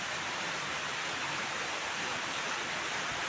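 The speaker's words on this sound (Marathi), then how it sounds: "तोपर्यंत पाऊसच आला" Steady, even hiss of rain falling, a continuous wash of noise with no voices.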